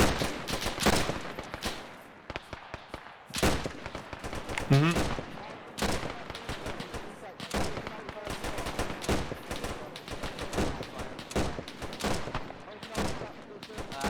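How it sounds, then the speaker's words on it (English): Gunfire in the Arma game during a Sicily campaign training session, aimed at a field gun: repeated loud bursts of shots and heavy reports that dominate, with radio-like voices talking between them. "Suppressive fire on that field gun"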